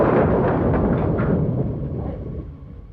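Heavy rolling thunder from a storm in a Hindi horror drama booms loudly at first, then slowly fades away as a deep, rumbling roar with no speech over it.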